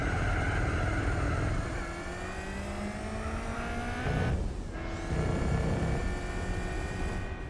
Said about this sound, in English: You can definitely hear the turbo spooling up then